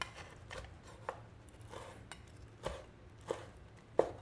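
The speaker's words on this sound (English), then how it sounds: "let's chop up some of this fajita here" A knife chops cooked fajita meat on a cutting board for a Tex-Mex torta, with several separate sharp knocks at an uneven pace over faint background noise, the last stroke loudest.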